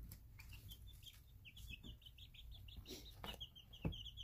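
Young chickens in a brooder keep up a busy stream of clucks and chirpy peeps, close and overlapping, with a few louder calls and a brief rustle or flap near the end.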